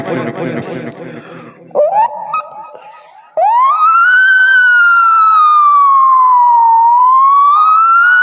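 After some chatter, a voice imitates an ambulance siren on stage at a mimicry performance, with long rising and falling wails, loud and sustained.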